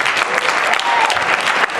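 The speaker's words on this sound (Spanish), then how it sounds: "o eterno Toñito Blanco, fuerte aplauso, aplaudimos." Audience at a cult film festival presentation gives loud, sustained applause, a dense wash of clapping that carries steadily through the clip.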